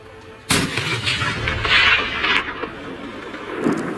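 A single loud rifle shot cracks out during a Corsican mouflon hunt in the French countryside, followed by a rolling echo and faint rustling outdoors.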